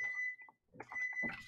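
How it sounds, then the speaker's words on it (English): A household alarm beeps with a steady high electronic tone at moderate volume, partly masked as a person talks over it. "Turn off the alarm. Turn off the alarm!"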